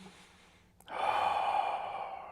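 A person draws a sustained breath in through the mouth during an ab exercise, a soft airy intake rising abruptly and holding steady for over a second, close and alone.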